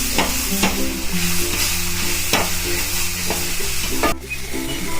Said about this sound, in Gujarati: હવે આપણે આમાં દૂધ નાખી દઈશું.